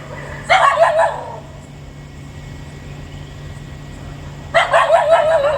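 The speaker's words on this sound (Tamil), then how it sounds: "இங்கே ரெண்டு நாய் இருக்குது பாருங்க" Dogs on a road by a compound wall give two short bursts of barking, one near the start and one near the end, separated by a quiet stretch with a faint steady hum.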